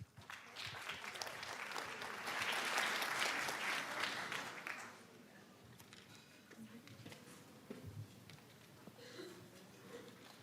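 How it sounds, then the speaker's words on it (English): Audience applause at a youth climate summit rises to a full round of clapping, then thins after about five seconds into scattered claps, shuffling and light room noise. "So give a warm round of applause,"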